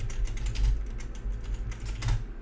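Rapid typing on a computer keyboard while playing a game, a dense run of light clicking keystrokes close to the microphone over a low background hum, with no talking.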